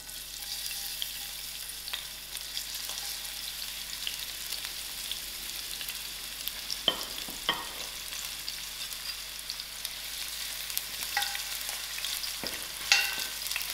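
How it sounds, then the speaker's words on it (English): Onions frying in hot oil on a stove at moderate heat give a steady, close sizzle with a few faint clicks and pops, and no talk over it. "I'll allow my onions to come to a fry."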